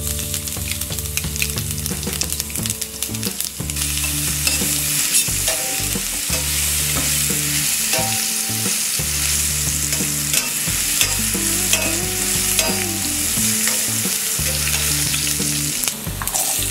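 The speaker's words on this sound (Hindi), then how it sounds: "1/2 टेबल स्पून तेल गरम हो गया है, अब हम इसमें डालेंगे ये राई, हींग," Mustard seeds, asafoetida and garlic sizzling in half a tablespoon of hot oil for bottle gourd sabzi, a loud steady frying hiss with repeated spoon scrapes and stirring knocks in the pan, close up.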